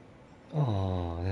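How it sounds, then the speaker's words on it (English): A small kitten in the game Lies of P lets out one short, high meow after a quiet pause, close and clear with no speech over it. "A small kitten."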